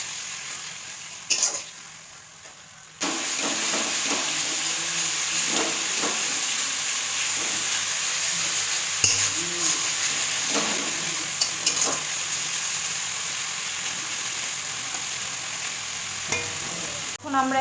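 Cumin powder and tomato paste frying in a pan while being stirred, a steady close sizzle and hiss that runs nearly the whole time with occasional scraping strokes, no talking.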